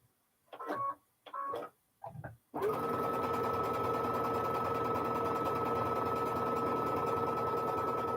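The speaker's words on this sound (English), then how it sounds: "So I am just sewing them to use in some other project" Domestic sewing machine stitching fabric flower quilt blocks: a few short bursts of stitching, then a long, steady, close-up run of continuous whirring and rapid needle clatter.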